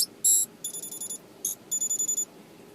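Electronic alert tones from a K40 radar detector fitted in a 1995 Mercedes-Benz S500 Lorinser coupe, heard as a string of short, high, clean beeps in bursts, with a quicker run of repeated beeps toward the end.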